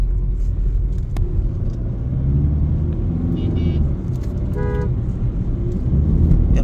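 A 2017 Audi Q3 Quattro all-wheel-drive SUV pulls away after being shifted into drive, with a steady low engine rumble and road noise heard from inside, plus a brief horn toot in the middle.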